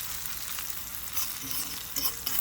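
Freeze-dried breakfast scramble eggs sizzling in a pan on a stove, a steady frying hiss with a few soft stirring scrapes near the end.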